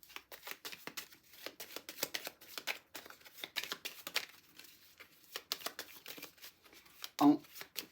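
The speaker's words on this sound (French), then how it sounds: "Nous allons maintenant brasser nos cartes." Tarot cards are shuffled by hand in steady, rapid riffling bursts close to the listener, soft papery flutters repeating throughout with a brief louder snap near the end.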